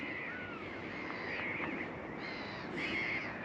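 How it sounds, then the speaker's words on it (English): Crows cawing and other birds calling over a large lake, continuous chatter of several birds at moderate distance with steady background ambience, no talking. "The water's absolutely covered with bird life."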